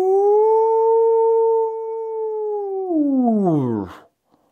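A voice imitates a deep howl heard across a lake at night in the Tahoe National Forest, holding a long steady tone before sliding downward and breaking off, loud and close.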